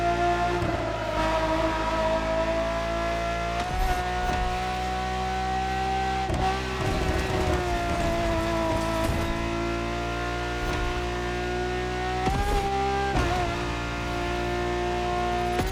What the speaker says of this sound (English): The strongest naturally aspirated Ferrari V12 to date, marking Ferrari's first steps into hybrid technology.